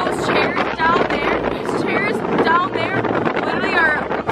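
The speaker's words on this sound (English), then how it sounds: "It's a bit windy." Strong wind buffets the microphone on a Florida beach during a hurricane, a loud, gusty rumble running under a person talking throughout.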